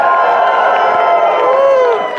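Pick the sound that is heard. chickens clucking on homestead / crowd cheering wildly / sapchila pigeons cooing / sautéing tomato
crowd cheering wildly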